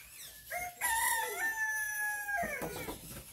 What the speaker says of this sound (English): We have roosters and geese and ducks.